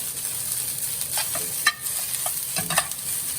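Ketchup fried rice is stir-fried in a wok over medium-low heat: a constant soft sizzle broken by sharp spatula scrapes and tosses, close up, with no voices.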